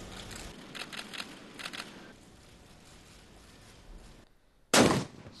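A royal cannon salute at a royal wedding ceremony in Brunei, where a 17-shot salute was fired. A single loud, sharp blast stands out near the end, after a stretch of quieter, muffled background noise.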